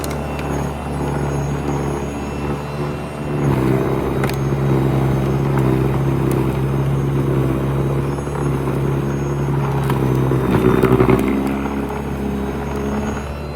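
An EGO battery-powered electric snowblower runs while throwing snow. Its steady, fairly loud motor hum with a low whine swells slightly partway through and continues without talk.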